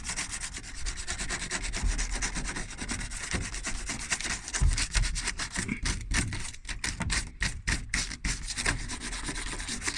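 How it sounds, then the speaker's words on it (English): Sandpaper rubbed back and forth over excess plastic on a repaired children's plastic slide, a steady close scratching rasp with rapid strokes, alone without talk. "take a little bit of sandpaper and sand off the excess"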